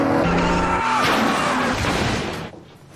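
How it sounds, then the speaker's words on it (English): A car skids and crashes into the front of a house in a film scene: a loud, sustained tire screech over a dense broadband roar, which cuts off abruptly near the end. "just crashed his car into the front of the house"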